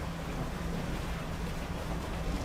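Steady washing of water and waves around a small fishing boat in the game Dredge, a continuous broadband wash with low rumble throughout, no voices.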